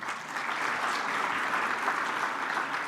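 Steady applause from an audience, a dense wash of clapping that holds at an even level for the whole stretch.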